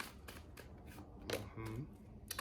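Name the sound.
shuffling tarot cards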